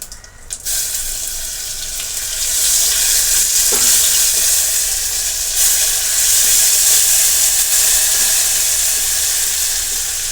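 Ginger garlic paste hits hot oil with cumin seeds for Kolhapuri chicken sukka, sizzling loudly and continuously with a bright, close frying hiss and occasional stirring.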